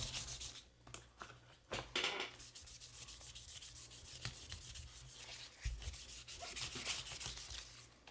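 Sandpaper rubbed by hand over an aluminum part from a vintage motorcycle being restored, a soft, steady scratchy swishing in repeated strokes with brief louder scrapes, close up and without speech.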